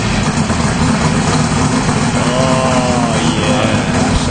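A drag racing engine idles loudly and close by with a rough, continuous low rumble and a brief higher tonal whine in the middle.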